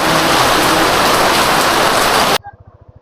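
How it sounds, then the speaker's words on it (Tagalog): Steady hiss of heavy rain pouring down, loud and close, cutting off abruptly near the end into quiet low rumbling. "Ang ulan, no?"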